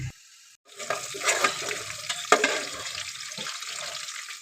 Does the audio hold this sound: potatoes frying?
yes